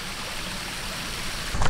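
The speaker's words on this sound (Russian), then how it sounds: "С прекрасным водопадом." Waterfall pouring into a hotel swimming pool at Koh Chang Resort in Thailand gives a steady, close rushing splash that swells louder in the last moments.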